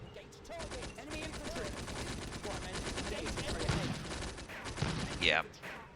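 Rapid machine-gun fire rattles continuously against a Panzer II tank in the Combat Mission Afrika Korps game, dense and steady, with a voice talking over the burst and a sharp ricochet-like ping near the end.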